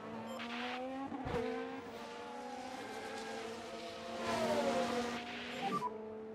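Several Formula 1 cars in F1 Manager 2023 drive past with steady high-pitched engine whines, rising and falling as they approach and recede, fairly faint and without talk.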